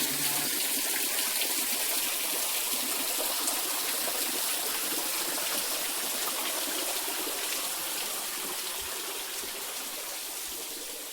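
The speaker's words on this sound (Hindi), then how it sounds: "ये जड़ी का पानी कहते हैं इसे, पहाड़ों से आ रहा है ये" Mountain spring water near a hillside temple pours in a continuous bright rush, steady and close for several seconds before easing slightly toward the end, with no one talking.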